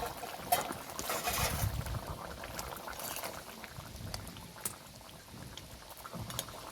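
Potato curry bubbles in a pot as the lid comes off, with a steady close simmering and sizzling wash, a few clinks and a brief metallic rattle early on.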